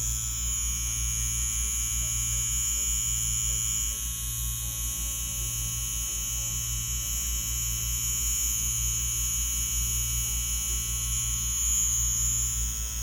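An Ambition Soldier wireless tattoo machine runs a 7-round liner at 7.5 volts, giving a steady, even electric buzz with a low hum underneath that holds unchanged throughout, with no voices.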